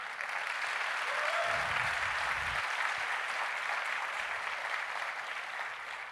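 A church congregation at a Sunday morning service clapping their hands in steady, sustained applause that fills the room, with a brief low voice under it.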